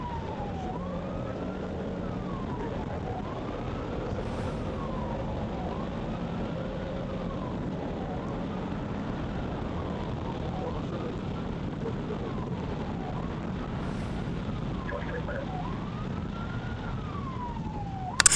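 A police siren wails in steady rising and falling cycles for the whole stretch, heard over road and engine noise from a moving vehicle.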